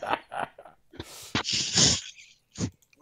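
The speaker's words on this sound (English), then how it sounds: "Sneezes as well." A few short, breathy bursts with one sharp, noisy sneeze-like blast in the middle, close to the mic, between quieter snorts and breaths.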